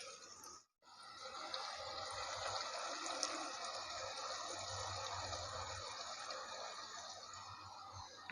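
Water poured into potato bhujia cooking in a pan gives a steady, broad hiss that holds for several seconds after a brief drop near the start, fairly close and without talk.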